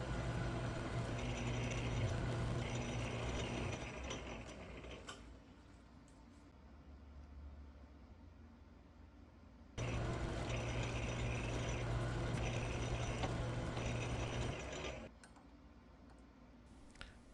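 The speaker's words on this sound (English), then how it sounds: "we'll fire the lathe back up and take some more passes" A 1942 South Bend lathe takes cutting passes while machining a backplate for a 6-jaw chuck, a fairly quiet steady mechanical hum and ticking that runs in two spells with a quieter lull between them.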